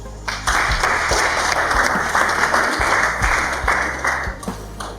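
An audience at a family summit talk breaks into steady applause, a dense wash of many hands clapping at moderate distance that fills the whole stretch without speech.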